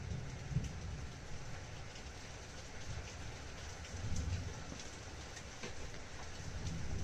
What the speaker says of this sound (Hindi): बारिश हो रही है तो हो सकता है आपको थोड़ी बारिश की आवाज़ आए